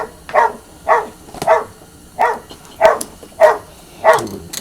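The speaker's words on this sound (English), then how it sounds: "Dogs have a good time saying hello to everybody else in the neighborhood" Several dogs bark in a neighborhood, about seven regular barks spaced roughly half a second apart, moderately close and loud, with no talk over them.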